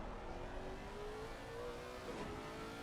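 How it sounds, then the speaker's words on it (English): Lexus race car engine at Suzuka circuit, a steady high-pitched whine heard at a distance, faint and sustained with a slight rise in pitch as it revs. "go on the back of Curtis Lee here and look over the back of this screaming Lexus"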